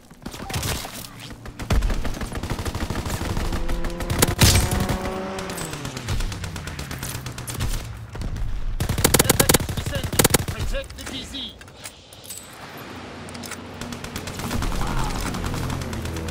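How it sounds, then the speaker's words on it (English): Heavy machine-gun strafing fire rips through a Call of Duty: WWII game battle in dense sustained bursts, mixed with explosions and a diving aircraft roar, loud and close, with brief game voice lines between. "Strafing run inbound."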